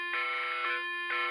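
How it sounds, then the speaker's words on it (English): An EAS emergency alert tone sounds as two loud, steady electronic buzzing bursts, a long one followed by a short pause and a second burst starting. "Doing his original EES alarm."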